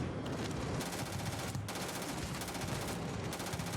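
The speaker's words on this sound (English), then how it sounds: "When you actually shoot your fucking enemies and not the random air around them" Sustained rapid gunfire from the space shooter game Starfield, a dense, continuous burst of automatic weapon shots at steady loudness with brief dips, no talking over it.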